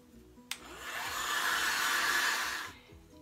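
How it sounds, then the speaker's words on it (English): A hair dryer blows over a paper clay plant pot kit to dry clay and paint. It switches on with a click and whooshes steadily for about two seconds before shutting off, fairly quiet. "You can also speed up the process for both the paper clay and the paint by using a hair dryer."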